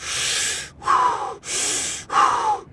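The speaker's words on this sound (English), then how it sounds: "deep inhales, deep exhales" A person breathing deeply in and out, two full cycles of loud, close, airy breaths, each long inhale followed by a slightly rougher exhale with brief pauses between.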